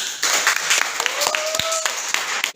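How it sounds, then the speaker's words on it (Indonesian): A classroom of students claps hands together in a short burst of applause, close and fairly busy, with a voice briefly audible over it. "kita tepuk tangan dulu"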